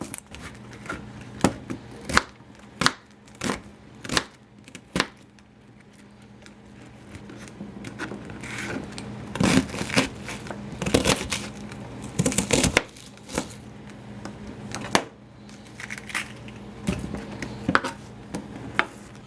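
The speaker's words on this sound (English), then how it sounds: "we got the onions all chopped up" A knife chops onions on a cutting board in a home kitchen, with irregular crisp thuds and clicks, some in quick bursts and others spaced apart, close and fairly quiet with no talking.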